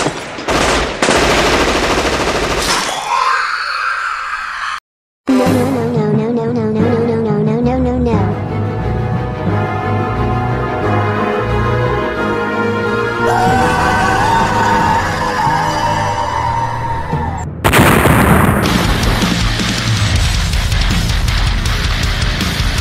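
A firing squad in an animated movie fires a loud burst of rapid gunfire at the start, followed by a long stretch of music with tones, then another heavy volley near the end.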